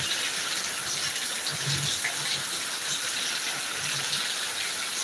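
A steady, rushing wash of heavy rainfall in Thiruvananthapuram fills the air, an even broadband gush close to the listener with faint low splashes beneath it and nobody speaking.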